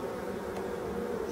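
Black bees from forest hives buzz in a dense, continuous close-up hum, steady and fairly loud without pauses, heard alone.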